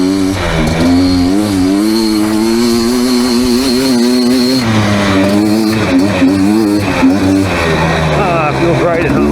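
Beta Xtrainer two-stroke dirt bike engine revving loud and close while riding, pitch rising and falling steadily through gear changes, with wind buffeting and voice-like tonal overlay throughout.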